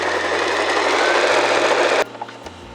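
Sewing machine stitching a layered fabric face mask, a loud continuous mechanical whir for about two seconds that stops abruptly, followed by a few faint clicks.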